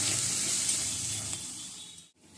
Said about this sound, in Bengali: দিচ্ছি পরিমাণ মতো হলুদ হলুদটা দিয়ে মশলাটা ভালো করে আমি ভেজে নিচ্ছি